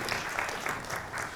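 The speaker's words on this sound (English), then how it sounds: "You can applaud." A brief burst of audience applause, a dense wash of clapping at moderate volume throughout.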